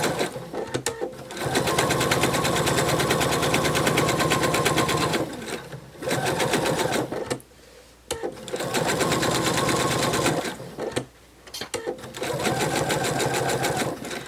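A sewing machine stitches the seam of a narwhal plush, running in long steady bursts of rapid mechanical whirring close up, with short stops between runs and no talk.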